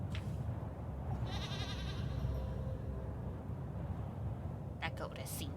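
In the video game Little Goody Two Shoes, a goat bleats in brief wavering cries near the end, faint over a low ambient background.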